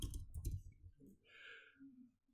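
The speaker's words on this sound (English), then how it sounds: "you just click on it and type your username" A computer mouse clicks in Roblox Studio: a few soft, quick clicks in a burst near the start, then quieter faint ticks, all at low volume.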